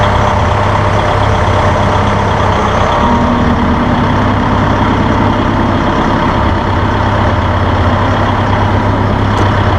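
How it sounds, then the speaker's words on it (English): A tractor loader's engine drones loud and steady as the loader arm lifts toward maximum height, with a continuous low rumble and a faint hydraulic strain joining partway through. "we're going to take these loaders to maximum lift height"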